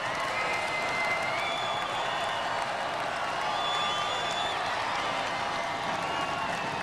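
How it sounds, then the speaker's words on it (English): Arena crowd at a Robot Wars combat event cheering and applauding: continuous dense roar of clapping and voices at steady loudness, with faint tonal sounds running underneath. "and the crowd loves it"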